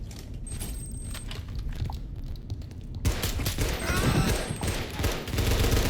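Gunfire in the Roblox game Projet Apex, a burst of game-audio shots that turns into a dense, loud fusillade after a few seconds, with mechanical weapon clatter mixed in and no talk over it.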